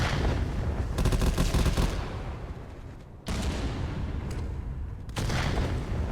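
Gunfire and explosive thumps from a competitive VR tactical shooter, Contractors VR, come as dense, loud bursts of rapid shots separated by brief dips, with no talk over them.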